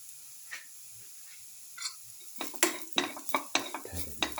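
Spoon stirring spiced tomato rice in a pot, seasoned with turmeric, spice mix, salt, garlic and cumin: quiet at first, then a quick series of close, scraping strokes against the pot with no voices.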